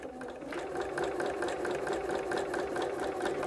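A sewing machine runs a back stitch on pillow fabric, a quiet rapid steady whirring rattle lasting a few seconds without pause.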